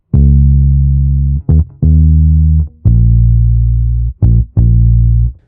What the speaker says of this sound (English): So here's a very simple groove I've got here.